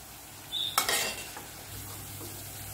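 Raw banana kola balls frying in hot oil, a faint steady sizzle with one brief louder burst of stirring or scraping near the start, otherwise quiet.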